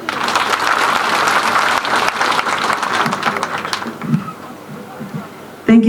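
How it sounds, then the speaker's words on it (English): A crowd at a memorial gathering for a late professor applauds in a dense, loud burst that fades over several seconds, before a voice starts speaking at the very end. "Let's clap for her."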